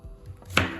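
A knife chops food coarsely on a board while preparing dolma, giving a single sharp close knock against the board after a couple of softer taps.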